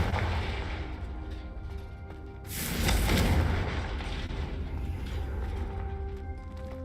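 A Confringo fire spell is cast in Hogwarts Legacy, erupting in one loud, booming blast about midway through. Continuous game ambience runs before and after the blast, and there is no talking.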